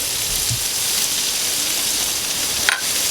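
Garlic sizzles steadily in a hot paella pan, a continuous close frying hiss with a faint clink near the end.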